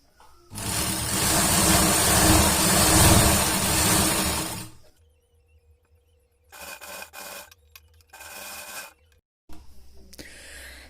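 Sewing machine stitching a sleeve strip on a sari blouse, a loud steady whirring run of several seconds, then shorter bursts of stitching separated by quiet pauses.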